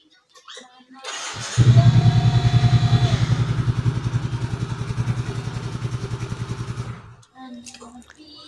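A short alarm chirp, then a 2012 Yamaha Mio Soul GT scooter's engine fires up by remote alarm and idles with a close, rhythmic pulsing for several seconds before cutting off.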